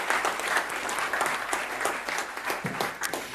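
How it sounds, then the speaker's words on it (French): Audience applause at a French business tech evening on education technology, a brief burst of dense clapping, fairly distant and uniform. "on peut vous applaudir"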